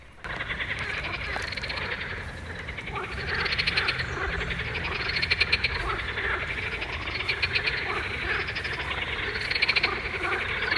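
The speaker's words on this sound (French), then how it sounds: "je vais vous laisser écouter les grenouilles qu'on entendait vraiment très très bien." A chorus of frogs croaks continuously in an open landscape, many overlapping pulsing calls at moderate distance, rising and falling in waves.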